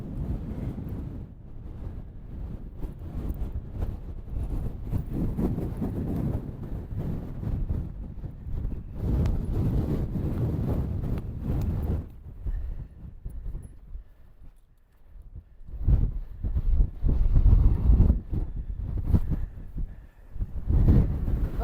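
Strong wind gusting across an exposed Lake District fell near Wrynose, roaring and buffeting the microphone loudly and continuously, easing briefly before blasting back harder.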